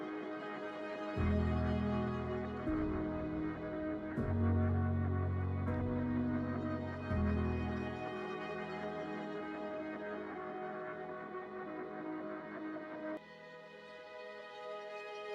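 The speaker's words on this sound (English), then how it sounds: "let the piano ring out here instead of playing further into the track" Piano chords played in a slow pattern, then a final chord sustaining and fading with a soft reverberant tail.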